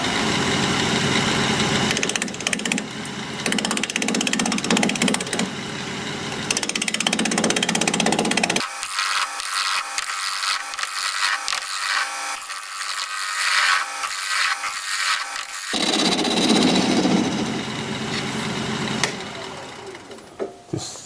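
Wood lathe spinning at about 1,000 RPM while a half-inch bowl gouge cuts a rustic ring dish, giving a steady loud whirring drone with rough scraping bursts and a brief quieter stretch midway.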